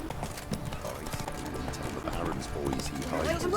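Steady clip-clop of horse hooves in the video game The Witcher 3, a continuous trotting rhythm heard close under game music and a voice speaking throughout.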